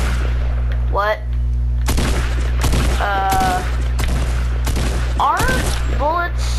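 Gunfire from the video game Fortnite crackles in several sharp bursts, mixed with tonal in-game effects and a speaking voice between shots.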